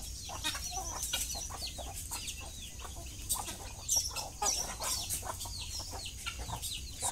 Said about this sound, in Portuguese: E aqui só o que tem no terreiro é frango